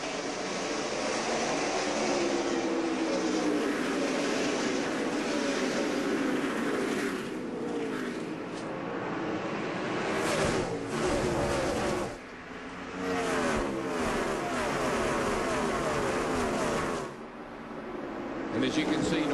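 NASCAR stock cars racing at the Subway Fresh Fit 500, a loud sustained roar of engines with shifting pitch as the pack comes to green, under continuous commentary.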